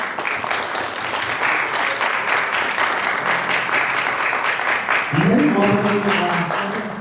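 Wedding guests applaud to congratulate a newly married couple, a steady full round of clapping that lasts throughout. A voice comes in under it near the end.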